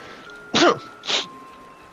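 Two quick sneezes close up, a sharp burst followed by a softer one, in an otherwise quiet room.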